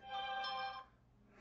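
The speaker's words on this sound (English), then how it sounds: "Okay, that's my phone." A mobile phone rings during a live stream meeting, a bright electronic tone lasting under a second, fairly faint, then quiet.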